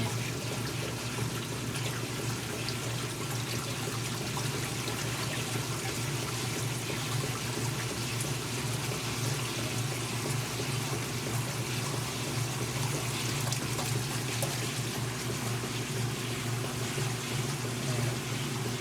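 Water runs steadily from a tap during spring unwinterizing, a continuous splashing, trickling flow that holds at an even level throughout with no talk over it.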